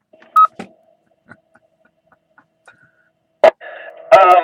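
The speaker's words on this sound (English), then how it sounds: "I gotta make a phone call, Obi." Phone keypad beeps before a call to dispatch, heard as a few isolated tones and faint ticks, then a sharp click and a burst of steady dual tones near the end.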